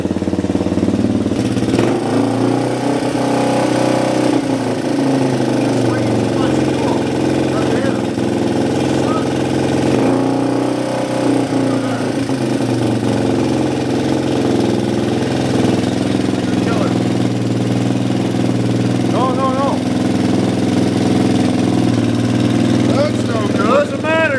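A Yamaha 225DX ATV engine runs close by, idling with a steady, loud, throbbing rumble and slight revving throughout. Voices talk faintly over it.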